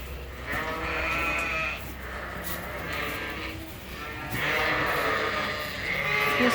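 Sheep bleat repeatedly in a barn pen, several loud, close calls that overlap in waves from different animals, with lambs present.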